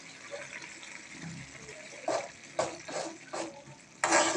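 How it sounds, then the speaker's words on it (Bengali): Hilsa fish roe stirred in a frying pan, with a steady sizzle and several scraping stirs about half a second apart, followed by a louder burst of frying. "মাছের ডিমগুলো দিয়ে দিচ্ছে, দিয়ে সুন্দর করে নাড়াচাড়া করে নিচ্ছে"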